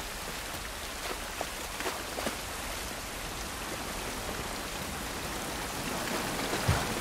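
Rain falling outdoors in the video game The Last of Us Part I, a steady broadband hiss of rainfall with a few faint drop taps, alone and fairly even in loudness.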